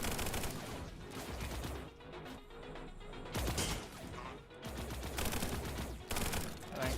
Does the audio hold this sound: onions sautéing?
no